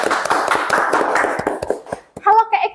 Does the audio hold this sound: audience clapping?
yes